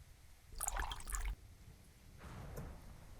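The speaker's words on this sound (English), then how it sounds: "Just anything to stop the sound effects of the water." Splashing water footsteps from an RPG Maker MV game, two short bursts of watery sloshing in quick succession, the first louder and the second fainter.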